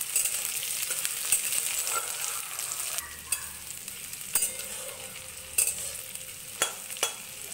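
Chopped onion and green chilli frying in plenty of mustard oil with five-spice tempering, a constant bright sizzle punctuated by sharp clinks and scrapes of a spatula.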